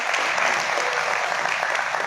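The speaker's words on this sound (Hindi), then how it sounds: "एक बार इनका भी जोरदार तालियों से स्वागत करेंगे।" Loud, dense clapping from a crowd at a farmers' protest sit-in in Yamunanagar, welcoming a leader. It is steady and continuous throughout.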